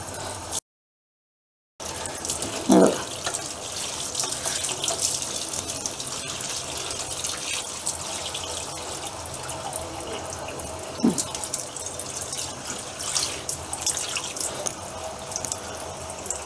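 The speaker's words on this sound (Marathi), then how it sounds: "ही बेसिनचं पाईप प्लास्टिकचं आहे, त्यामुळे मी आता नळ चालू केलं आहे." Water runs from a kitchen tap into a sink basin with a plastic drain pipe, a steady rushing stream with a few brief splashes, close and continuous with no talking.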